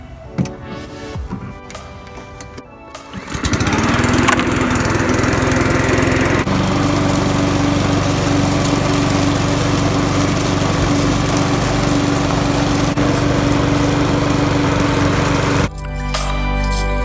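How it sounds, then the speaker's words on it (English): A lawn mower cuts a kikuyu lawn, its engine droning loud and close and steady for most of the stretch after a quieter start. "So yeah, let's get to mowing."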